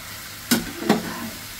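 Two quick scrapes of a spatula stir already-fried chicken pieces through a pan, each stroke close and distinct above a soft background sizzle.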